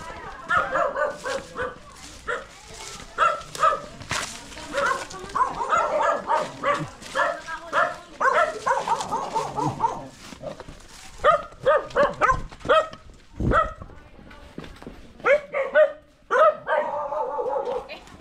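A dog barks and yips repeatedly nearby, mixed with people talking, the barks coming in uneven bursts over a noisy outdoor background.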